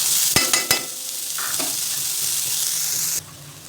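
Onion sautéing in hot oil until golden for masala dosa filling, a close, steady sizzle with a few sharp spoon scrapes and stirs against the pan near the start, cutting off abruptly near the end.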